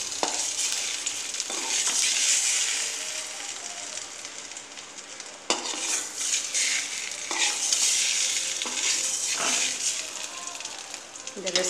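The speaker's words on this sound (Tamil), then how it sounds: "இந்த மாதிரி நம்ம வந்து ஊற வச்ச மசாலா கொஞ்சம் ஃப்ரை பண்ணி எடுத்துக்கலாம் லைட்டாக எண்ணெயில்." Marinated masala egg pieces frying lightly in oil in a pan, with a steady bright sizzle and stirring scrapes throughout, fairly close and continuous.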